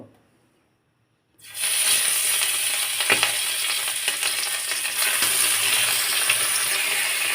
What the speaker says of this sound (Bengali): তেলটাও ভালো মতো গরম করে নিছি এখন আমি এখানে মাছগুলো দিয়ে দিব